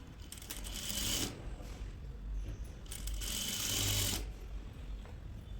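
A sewing machine stitching fabric for a nightie runs in two short, quiet bursts of rapid mechanical whirring, separated by a brief pause.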